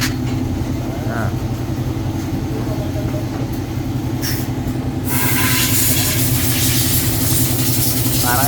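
A motorcycle engine runs during an oil change, giving a steady idling rumble with a rough, pulsing texture that continues unbroken, and voices can be heard faintly over it.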